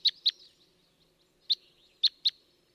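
Type 12 northeastern call type of a Red Crossbill-type finch flight call: five sharp, squeaky kip notes, two in quick succession, a pause, then three more, fairly near over a faint background.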